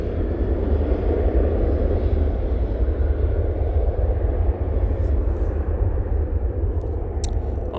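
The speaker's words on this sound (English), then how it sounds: "We have that 737-800 now departing." A Boeing 737-800 airliner departing from runway 05 left, a loud, continuous low jet roar and rumble that holds steady throughout without talk.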